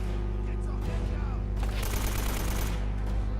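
Gunfire in Uncharted breaks out as a dense, rapid volley of shots over a steady low rumble, heavy and sustained through the latter half.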